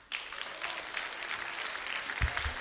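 Audience applause at a secondary school debate grand final in Lae, a dense burst of clapping that starts abruptly and continues steadily, fairly close and loud, with no talk over it.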